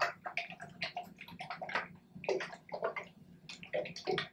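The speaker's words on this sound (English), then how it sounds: "you're just going to gently shake it a little bit, maybe side to side, up and down." Liquid sloshes in quick rhythmic bursts as a sealed jar of calendula flowers in oil is gently shaken side to side and up and down, close and fairly quiet.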